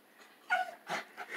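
A storyteller's voice imitates a wicked dog in a children's tale, giving three short, close yipping and whimpering bursts in quick succession.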